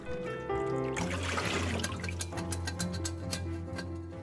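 Water trickles and splashes while rinsing a 3M stainless steel whole house water filter housing, a soft steady running stream with light drips and spatters, close and fairly quiet.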